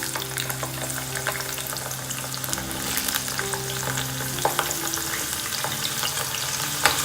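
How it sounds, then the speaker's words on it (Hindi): Potatoes deep frying in hot oil for undhiyu, a steady dense sizzle and crackle with occasional sharper pops, close and continuous with no voices. "अब हम उसी तेल में ये आलू को डीप फ्राई करेंगे"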